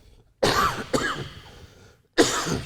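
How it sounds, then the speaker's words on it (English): Three sharp, loud coughs, the first two close together, then a pause before the third; no talking. "We're coughing."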